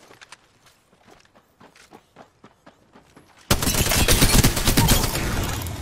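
Rapid bursts of gunfire in a fast-paced online shooter, sparse sharp shots at first, then a loud dense barrage of overlapping fire.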